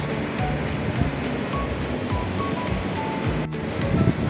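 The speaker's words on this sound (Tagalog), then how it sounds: "There's the big waves." Big ocean surf breaks at a beach in La Union, a steady broad wash of rolling waves with wind buffeting the microphone throughout.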